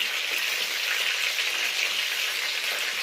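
Chicken pieces frying lightly in a pan for a steam roast, giving a steady, close sizzle with a fine crackle that holds evenly throughout, with no voices.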